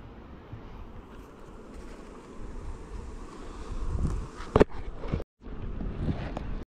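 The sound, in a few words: honey bees buzzing around a hive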